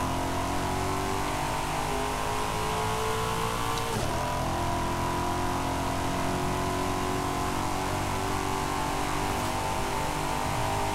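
A car engine revs steadily in the racing game Forza Horizon 5, a loud continuous drone with a brief pitch dip and recovery midway, close and alone without talk.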